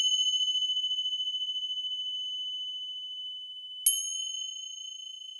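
Finger cymbals ring out with a bright, pure metallic tone: one strike at the start that slowly decays, then a second clear ping later that renews the sustained shimmer, with no other sound around it.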